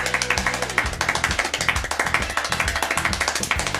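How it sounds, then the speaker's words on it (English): A man clapping his hands extremely fast, about 14 claps per second, making a dense, even train of sharp claps that runs unbroken and loud throughout, with a low hum underneath. "This man is the fastest clapper, being able to do 14 claps per second."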